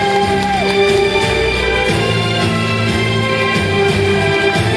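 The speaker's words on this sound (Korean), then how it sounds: "큰 박수로 축하해 주시기 바랍니다" Audience cheering and shouting at a PWA slalom windsurfing prize-giving in South Korea, a steady crowd roar that fills the whole stretch, with music or a sustained tone running beneath it.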